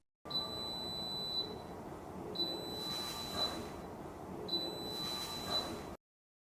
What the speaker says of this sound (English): The machine runs until the water runs out, then beeps 3 times and keeps warming for 2 hours.